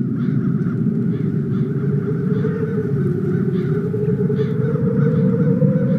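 Crows caw repeatedly at a steady rhythm over a loud, dense droning ambience in the fantasy adventure game The Dark Eye: Chains of Satinav.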